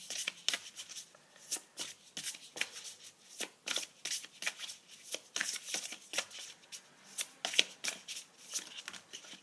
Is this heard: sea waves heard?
no